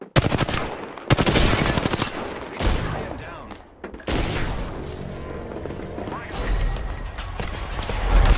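Loud, dense automatic gunfire and bursts from the battle royale shooter Apex Legends, sustained across the whole stretch with brief breaks and heavy booming impacts, a chaotic close-range firefight.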